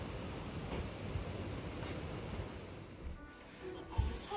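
Steady rain falls during a hurricane, a dense hiss close by, with a faint low rumble and a sharp thump near the end.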